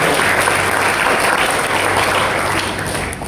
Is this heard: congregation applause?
yes